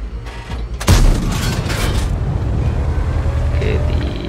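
A single heavy boom from a tank gun firing in World of Tanks, with a long rumbling tail under steady game noise, and someone speaking through the clip.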